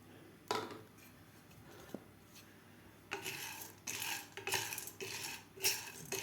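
Roasted gram dal is dry-roasted and stirred in a pan. Quiet scraping and rattling rise into louder rhythmic rubbing strokes with a few sharp metallic clinks, and there is no talk.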